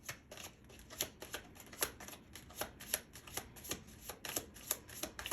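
Oracle cards being shuffled up close, a quiet run of quick riffling flutters and soft slaps repeating in a steady rhythm, with no talking.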